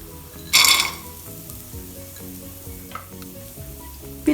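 Cashew nuts are added to hot ghee already holding coconut pieces, for a Kerala millet payasam. The ghee hisses in a loud, bright burst as the nuts go in, then a steady sizzle continues with light stirring scrapes.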